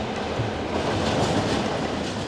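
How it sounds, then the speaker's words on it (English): A train rolls through a railway yard on the incline to Khandala, manoeuvring round a corner. Its steady rumble is close and loud, with a continuous wheel-on-rail roar and faint clatter and no pauses. "The train entered the yard on the lower line and then reversed up the upper line, manoeuvring round the corner."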